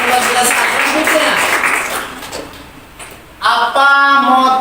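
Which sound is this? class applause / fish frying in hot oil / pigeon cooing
class applause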